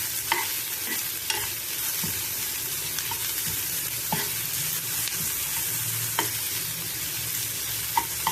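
Onions frying in a pan with steady broadband sizzle, stirred now and then with sharp scraping clicks of a spoon against the metal; no one talks.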